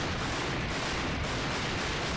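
Rapid gunfire from Dante's pistols in the Devil May Cry 2 action game, a dense unbroken stream of shots that stays loud and even for the whole short stretch.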